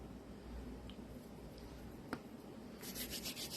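Hands rubbing together with hand sanitizer, soft close swishing friction with a brief snap-like tick midway and a stronger rub at the end, no talk.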